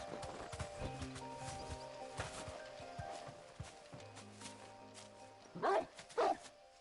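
In Final Fantasy XVI, a dog gives two sharp, fairly close barks near the end, over quiet game music and soft hoof-like clopping.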